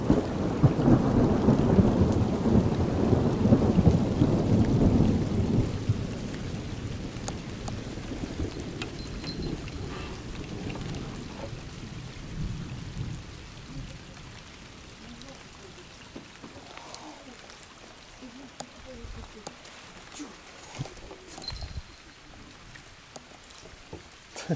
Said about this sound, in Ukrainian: Почався дождик.